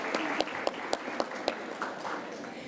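Audience applause at a healthcare conference, a steady patter of many hands with a few sharper claps standing out, moderately near and filling the whole stretch.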